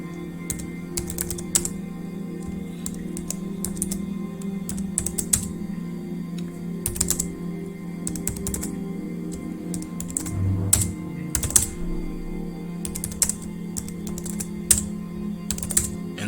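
Quick, irregular clacks of typing on a computer keyboard while entering a Linux command, close and crisp over a low steady hum, with brief pauses between bursts.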